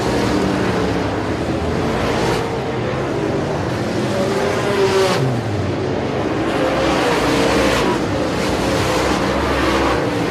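Modified race cars of the American Racer Modified Series roar around the Sabine Speedway oval, engines droning steadily with repeated louder swells as cars pass by, heard from a distance as a continuous race din.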